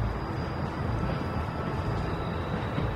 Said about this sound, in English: You need to stop the train.